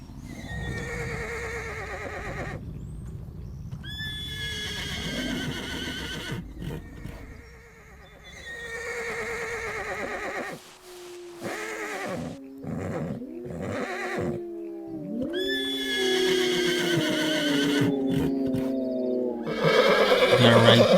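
Horses in a video game whinny repeatedly, with loud, drawn-out neighs that rise and fall, over game music and soft clip-clopping hooves.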